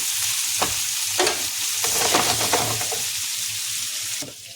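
Arbi (taro root) cooking in a pan on a low flame, giving a steady close sizzle with a few sharp stirring scrapes and clinks through it; no voices.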